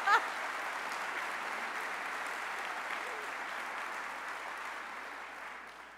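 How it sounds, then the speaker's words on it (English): Steady audience applause at a Pride award ceremony honoring George Takei, a moderately distant, even wash of clapping that holds for several seconds and slowly fades. "that deserves a round of applause"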